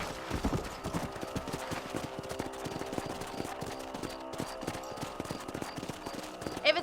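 Horse hooves clip-clopping at a steady trot in the video game Red Dead Redemption on a ranch, with rhythmic moderate hoofbeats that continue throughout and a brief whinny near the end.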